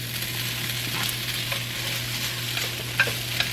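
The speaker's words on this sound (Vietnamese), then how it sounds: "Mình chỉ rang qua rang lại thôi là nó giòn tan lên, là mình ăn được rồi." Breaded, already-fried crab being reheated in an oiled pan, with a continuous close sizzle of frying and occasional light scrapes and clicks as the pieces are tossed.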